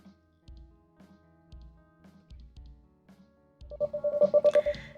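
A short run of rapid phone dialing tones from the TK Route game plays near the end, a quick string of even beeps that follows sparse, quiet interface blips and low thuds.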